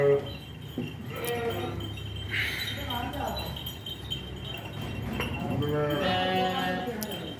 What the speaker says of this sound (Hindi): भाईजान बकरा अपना ज़रा लेके आए हैं